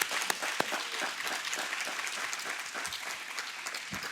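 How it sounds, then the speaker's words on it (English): An audience at a research history panel applauds two doctors after their presentations, a steady round of many hands clapping in a hall, with a few sharper individual claps standing out at the start. "One more round of applause for them."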